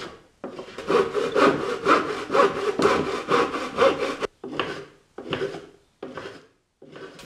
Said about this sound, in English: So I ended up using my hand saw.